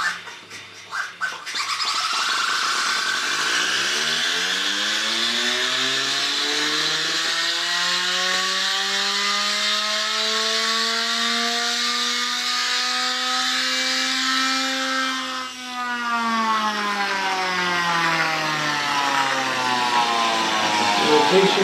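A vehicle gyro oscillation drive model runs with its spinning wheel, giving a loud, steady mechanical whir whose pitch rises and then slowly sweeps down as the wheel speed changes, heard alone without speech.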